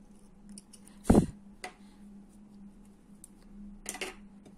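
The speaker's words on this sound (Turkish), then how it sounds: "Sarı ipimi kesiyorum buradan." Scissors snipping yellow thread during needle lace work on a headscarf: one sharp, close cut followed by softer clicks of the blades, in a quiet room.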